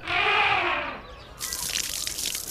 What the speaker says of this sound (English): He has a shower every day.